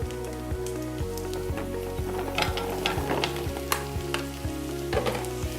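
Cubed butternut squash sizzles and crackles in a hot frying pan, a steady close hiss with scattered pops over a repeating background music beat.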